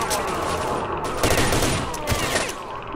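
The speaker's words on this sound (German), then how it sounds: "jetzt knallt die scheiß Knarre" Gunfire bursts in the Stalker Shadow of Chernobyl video game, rapid loud volleys of shots crackling in clusters, with the heaviest firing in the middle of the stretch.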